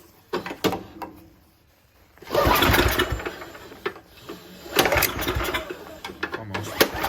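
Simplicity snowblower engine on full choke being cranked with a recoil pull, sputtering briefly into a rough mechanical chug, then a second pull with coughing bursts that fail to catch, close and loud.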